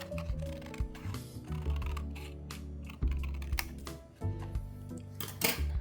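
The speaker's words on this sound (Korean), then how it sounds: "가위질 조심조심해서" Scissors snip carefully around the outline of a paper taegeuk emblem for an origami Korean-flag keycap, a quiet, close series of small crisp cuts and paper rustles in uneven rhythm with no talking.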